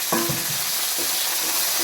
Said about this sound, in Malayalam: വെണ്ടയ്ക്ക ഞാൻ കട്ട് ചെയ്ത് വെച്ചിട്ടുണ്ട്, അതും കൂടെ ഇതിനകത്തിട്ടൊന്ന് വഴറ്റിയെടുക്കാം